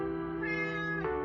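Millie the cat lets out a single drawn-out meow, close and clear, rising and then dropping off at the end, with no talk over it.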